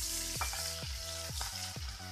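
Fish sizzling steadily in hot oil in a pan for a light fry before going into a fish molly, with a continuous crackle and a few soft stirring scrapes, close and alone.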